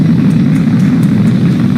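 SpaceX Falcon 9 rocket engines roar during launch, a loud, steady, low rumble that fills a short stretch without a break.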